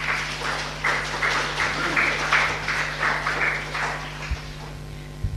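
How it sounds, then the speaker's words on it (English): A round of applause from participants at an academic conference, a dense, steady wash of many hands clapping throughout, moderately loud and sustained to the end. "Thank you all the participants for the round applause."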